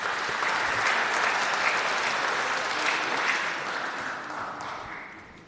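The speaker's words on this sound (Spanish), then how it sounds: "Fuertes aplausos." Loud, dense applause from a conference audience fills the hall, holding steady for several seconds before gradually thinning and fading toward the end.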